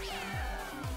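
A cat meows in the space co-op video game Lovers in a Dangerous Spacetime, a couple of short, rising and falling cries over quiet game background, fairly faint.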